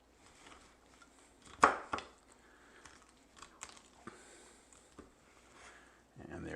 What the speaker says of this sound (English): if you just put a tip of a knife in to find the joint between the wing and the body, and then just cut it through it